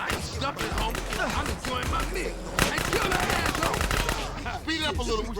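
Rapid gunfire from the video game GTA San Andreas crackles continuously through a busy mix of game sounds, with voices talking and shouting over the shots throughout.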